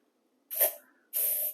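WD-40 sprayed from an aerosol can while cleaning a wet part, two short close hissing bursts: a quick one, then a slightly longer, steadier spray after a brief pause.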